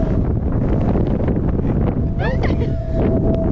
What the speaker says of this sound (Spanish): Ese es el sonido del sonda.